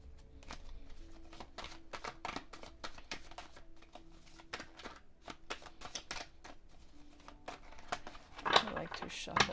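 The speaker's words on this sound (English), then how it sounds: "so we're going to shuffle." Plant oracle cards being shuffled by hand, a steady run of soft papery riffles and flicks close by, growing louder and busier toward the end.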